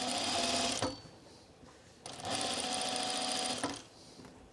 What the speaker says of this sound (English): I'm just going to top stitch it.